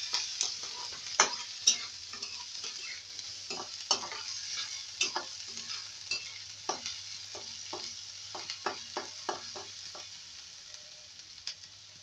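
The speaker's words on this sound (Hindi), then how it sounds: "प्याज को फ्राई करेंगे, फ्राई जब तक प्याज सुनहरे कलर का ना हो जाए तब तक फ्राई करते रहेंगे इसी तरह।" Onions fry in a pan with a soft continuous sizzle while a spoon stirs them, giving irregular scraping clicks and taps throughout, close and fairly quiet with no talking.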